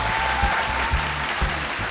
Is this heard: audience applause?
yes